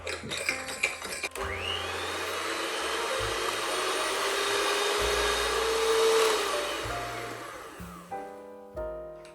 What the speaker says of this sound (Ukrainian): Збиваємо все міксером до пишної піни.